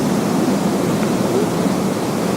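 A waterfall in Solok Selatan roars as a loud, dense and unbroken wash of noise, steady from start to finish with no talk over it.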